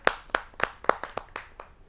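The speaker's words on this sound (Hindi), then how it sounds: "मैं आमंत्रित करता हूं उनको आप सबकी जोरदार तालियों के माध्यम से" Audience at a Hindi poetry gathering clapping, about a dozen sharp, separate claps in an irregular rhythm, moderately loud and without speech.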